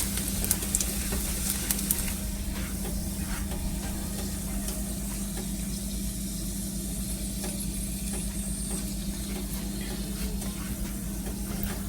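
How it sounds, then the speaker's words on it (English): Fish stirred in a pan of sizzling butter and garlic sauce over medium-low heat, a steady close frying hiss with faint stirring scrapes running throughout, no talking. "now we're just gonna keep stirring so the butter doesn't burn"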